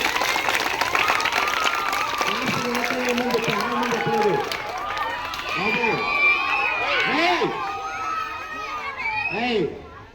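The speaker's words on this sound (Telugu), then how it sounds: "ఒకసారి డిపార్ట్మెంట్ గట్టి క్లాప్ చేయండి" A school audience at a Ganesh idol-making competition breaks into applause, a dense, loud clapping with shouts and cheers from children, tapering off near the end.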